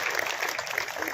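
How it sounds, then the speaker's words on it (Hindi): An audience at a farmers' conference claps in a dense, continuous burst of applause to welcome Chief Minister Vishnu Deo Sai. "ताली बजा के उनका हृदय से स्वागत कीजिए"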